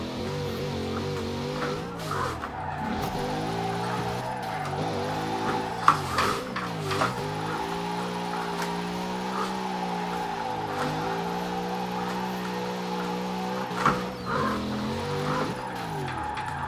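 A drift car slides through corners, its engine holding steady revving tones that rise and fall with throttle changes, with faint tire squeal and skid noise beneath, heard continuously from onboard for the whole stretch without talk.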